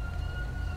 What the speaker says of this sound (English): I hear another siren coming in somewhere